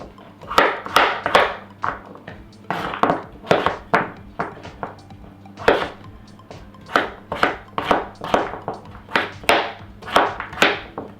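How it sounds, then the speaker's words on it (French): A knife chops squash into small cubes on a cutting board, each stroke a crisp, close knock, repeated in a steady, slightly uneven rhythm. "la dernière étape pour la courge, ça va être de venir couper des petits cubes"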